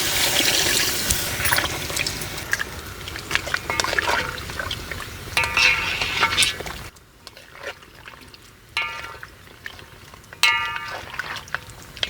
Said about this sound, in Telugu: నేను ఇక్కడ పొయ్యి మీద చేస్తున్నాను కాబట్టి నేను 750 ml నీళ్లు పోసాను.